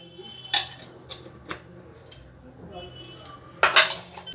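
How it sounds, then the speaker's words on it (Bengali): A wok is set down on a stovetop before oil goes in for chicken changezi, giving several sharp metallic clanks and light clinks at close range, with quieter rustling in between. "ওভেনে আমি আবার কড়া বসিয়ে দিয়েছি। কড়ার মধ্যে আমি সাদা তেল কিছুটা দিয়ে দিলাম।"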